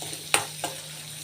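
Chopped onions being stirred in a hot pan of oil, two quick scraping strokes of a spoon over a faint continuous sizzle.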